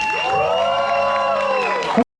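A lively crowd claps and cheers at a creators' meetup party, steady applause with whoops filling about two seconds before cutting off abruptly.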